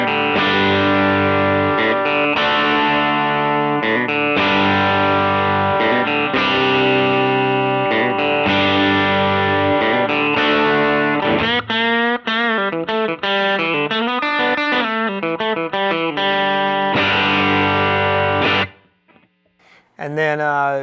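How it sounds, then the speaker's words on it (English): Bright, twangy electric guitar on a Charvel Pro-Mod DK24's single-coil bridge pickup, played loud with country-style chord stabs and quick picked runs, slightly driven and chorused, ending abruptly with a few quiet noises. "I used the single coil setting on the bridge pickup for the kind of country-ish part"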